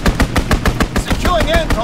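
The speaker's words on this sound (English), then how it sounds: "Enemy strafing run inbound." Rapid machine-gun bursts from an enemy strafing run in a first-person shooter, loud and close with sharp repeating shots over roughly two seconds, joined near the end by whistling, descending tones.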